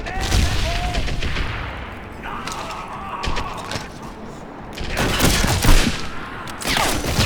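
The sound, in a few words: gunfire in Medal of Honor Airborne video game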